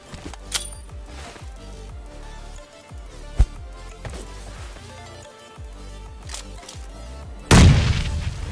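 A grenade detonates in PUBG Mobile Lite, a sudden loud, broad boom near the end that follows a stretch of steady in-game action noise with scattered sharp gunshot pops.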